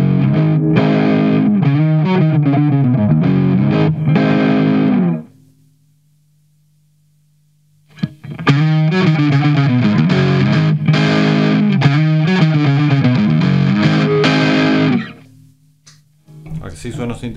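An electric guitar played through a Boss DS-1 distortion pedal with the neck pickup and tone at full bass, loud sustained distorted chords in two long passages separated by a near-silent pause, then a short final burst.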